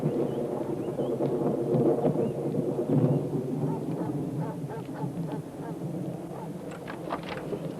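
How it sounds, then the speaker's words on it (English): Low, rolling thunder of an approaching storm rumbles steadily throughout, a dense broad roar with faint scattered chirps on top. "Looks like we got another storm rolling in. Big one."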